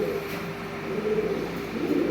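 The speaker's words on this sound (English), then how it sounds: "so that you can see basically what the birds are saying" Two caged birds squabble and snap at each other, soft low cooing and scuffling sounds close by, continuous and fairly loud without speech.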